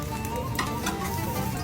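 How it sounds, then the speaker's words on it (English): A brief, loud hiss of sizzling as a hot iron press hits stuffed bread, Turkish street food, crackling steadily for a moment with no talking. "That sizzling sound when the iron hits"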